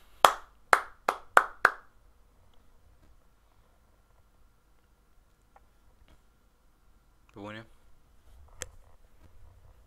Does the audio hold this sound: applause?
yes